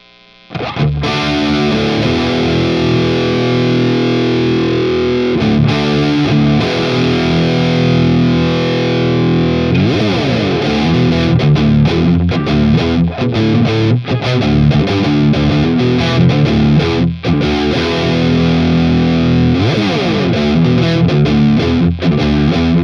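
Heavily distorted electric guitar played through a Synergy preamp into a Fryette power amp, loud and continuous for over twenty seconds, with chugging chords and sustained notes shifting in a dense, saturated tone.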